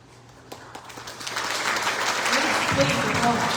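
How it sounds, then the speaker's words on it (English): Applause from a county fair audience greets a contestant, starting sparse and swelling into steady, fuller clapping, with a voice speaking over it near the end. "Please applause"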